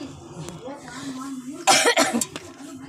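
A woman coughs in a short harsh burst of several hacks close to the mic after quiet murmuring and breathy vocal sounds.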